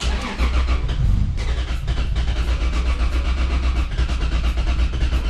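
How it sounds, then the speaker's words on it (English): A 2JZ engine in a 300ZX cranks on a cold E85 start, the starter churning loudly and rhythmically for several seconds without the engine catching. "these cold E85 starts"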